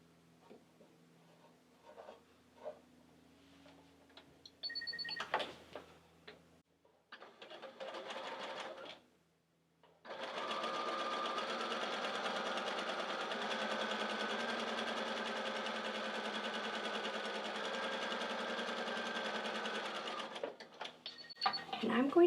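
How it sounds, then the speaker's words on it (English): A home sewing machine runs a steady ten-second burst stitching a quilt seam, preceded by soft handling clicks and fabric shuffling, quiet and close. "here I'm going to sew"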